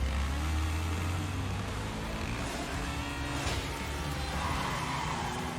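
A motorcycle engine in the video game Neverness to Everness hums steadily throughout, with a low continuous drone that rises slightly early on, mixed into busy background game sound at moderate level.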